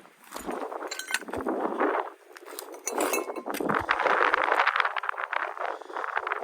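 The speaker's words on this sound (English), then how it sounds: "Lots of broken glass here though." Broken glass pieces clinking and rattling together, close and fairly loud in irregular bursts with brief pauses, no talk.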